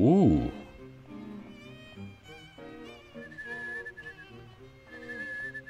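Whistled tune drifting through a quiet, dim corridor in the horror video game Rule of Rose, a thin high melody over ambient game tones, with a brief louder sound at the very start.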